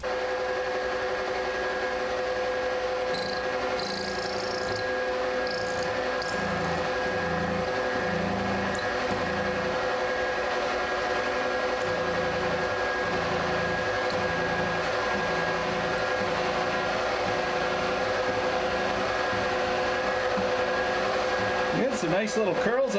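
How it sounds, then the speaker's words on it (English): A die grinder with a carbide burr whines at a steady high pitch as it grinds out a broken tap from metal, with faint voices beneath the continuous drone. "So we're gonna give this a try with a carbide burr."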